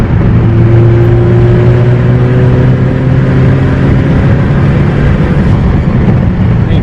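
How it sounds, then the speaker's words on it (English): Hybrid-turbo Ford Focus ST pulling in fifth gear, heard from inside the car: a loud, steady engine drone with a rising whine that climbs gradually throughout, constant and without speech. "Here's a small like 5th gear pull."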